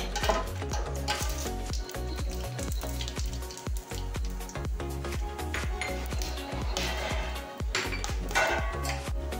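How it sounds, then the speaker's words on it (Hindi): Whole garam masala spices fry in hot ghee in a home kitchen pan, a steady crackling sizzle broken by frequent clinks and scrapes of a spoon stirring against the pot. "गरम मसाला हमारा अच्छे से फ्राई हो गया है"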